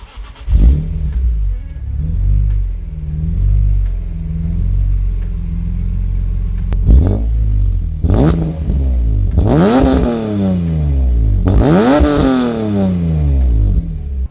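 BMW E46 with OEM CSL headers, a Super Sprint H-pipe and a titanium muffler, idling loudly close by, then blipped through several sharp revs that rise and fall, with the last two pulls longest and highest.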